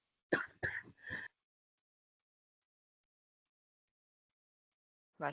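Three quick, close coughs in a row, harsh and throaty, followed by silence.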